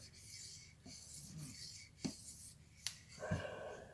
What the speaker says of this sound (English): I'm going on my tactile sense of how is the stone moving across that edge.